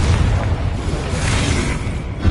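Confringo explosive spell cast in the Hogwarts Legacy video game, a loud booming blast with a rumbling low-end burst that rolls on for a couple of seconds.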